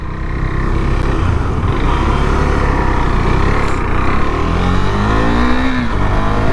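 A KTM Duke 390 motorcycle engine drones steadily and loudly while riding on a sunny day, its note shifting gradually with throttle, with wind noise underneath.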